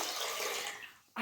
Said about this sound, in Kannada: ಮೊದಲಿಗೆ ಕುಕ್ಕರ್ಗೆ ಸ್ವಲ್ಪ ನೀರು ಹಾಕ್ಕೊಂಡು